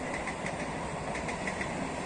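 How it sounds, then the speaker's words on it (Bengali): A Sealdah–Bongaon local train pulling out of Thakurnagar station: a steady, even rumble of rolling carriages and engine noise, unbroken for about two seconds with no voices. "শিয়ালদা থেকে বনগাগামীর ট্রেনটি ঠাকুরনগর স্টেশন ছেড়ে আসছে"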